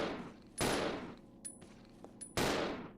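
Handgun fire in Resident Evil 0 HD Remaster, with Rebecca shooting at zombies: two sharp, loud shots about two seconds apart, each trailing a decaying echo, with small mechanical clicks between them.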